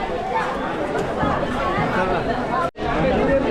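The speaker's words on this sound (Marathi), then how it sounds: "आज आहे रविवार तरी फुल गर्दी आहे इथं" A dense hubbub of voices rises from a crowded Sunday queue at the Bhimashankar jyotirlinga temple, continuous overlapping chatter nearby, broken by a brief dropout to silence near the end before the babble resumes.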